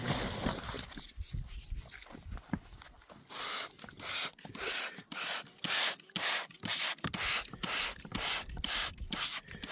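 Short hissing bursts from a spray bottle wetting a large rough rock slab, a steady rhythmic series of close, bright squirts repeating about every half second to second, alone without talk.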